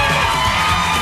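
A concert audience at a show screams and cheers loudly and continuously, a dense wall of high-pitched crowd noise with whoops throughout.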